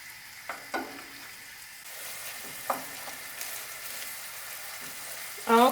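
Ground beef browning in a pan, a low steady frying sizzle with a few soft stir scrapes and clicks, one brighter clatter near the end.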